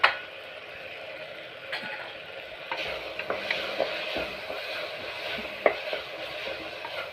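Sambar ingredients with turmeric and salt sauté in a pan, giving a steady soft sizzle with occasional scraping stirs and light clinks of a spoon, close and without talking.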